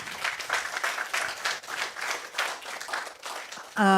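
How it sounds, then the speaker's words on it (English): A church congregation applauds at a Sunday morning service, sustained clapping from many hands filling the room for about four seconds before a voice cuts in at the end. "let's give them another round of applause"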